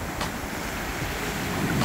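Rough surf at Jacksonville Beach, with waves washing in as a steady broadband roar. Heavy wind buffets the microphone and blends with the water noise throughout.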